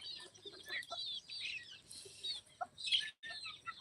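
Free-range desi country chickens with many chicks on a farm, near a shed, give a busy stream of high peeps and soft clucks, overlapping and uneven, with a brief pause near the end.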